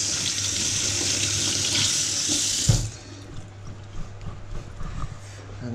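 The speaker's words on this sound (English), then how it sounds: "Now I'm going to give them a rinse. Clean the outsides." Tap water runs into a kitchen sink as potatoes are rinsed, a loud close rushing stream that cuts off partway, followed by quieter wet handling and small knocks.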